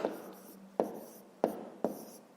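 Pen on paper in a math exercise: four short, close scratching strokes, each a sharp onset trailing off, spaced roughly evenly and quiet.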